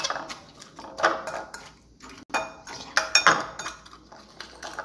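A fork clinks and scrapes against a bowl while broken Maggi noodles are mixed, giving scattered light metallic taps and clinks at close range, fairly quiet.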